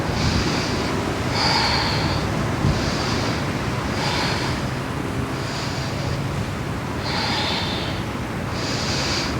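Slow, rhythmic breathing during a yoga pose, with repeated airy breaths through the nose at an even pace, heard close and alone with no talking.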